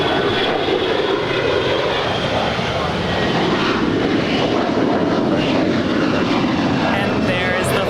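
An airliner bound for Atlanta passing, a loud sustained engine roar holding steady throughout with a faint rising whine near the end.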